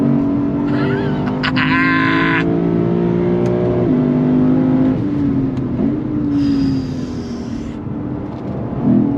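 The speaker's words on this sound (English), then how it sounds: "Ooh, those downshifts." A 2024 Lexus IS 500 F V8 sedan being driven hard, its engine note rising and then blipping sharply on downshifts. The loud, continuous drone shifts pitch several times, with some road noise underneath.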